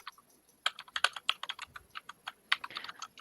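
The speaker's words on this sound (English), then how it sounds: "know I'm typing." Rapid, uneven keystrokes on a computer keyboard, close and clear, forming a steady burst of clicking with no voices.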